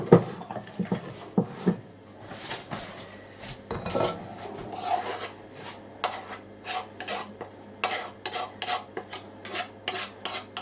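A spoon scrapes and rubs through thick, dark rich fruit cake mixture in a bowl for a Christmas cake, making repeated close rasping strokes with short pauses between them.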